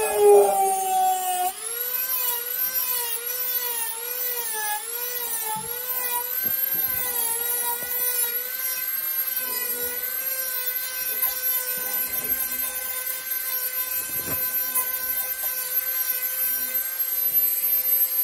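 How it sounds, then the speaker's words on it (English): A Dremel rotary tool whines at a high, steady pitch that rises and wavers as a sanding drum grinds a channel into cedar wood, continuous and close, with occasional scraping bumps. "I ran the sanding drum across and cut that channel in"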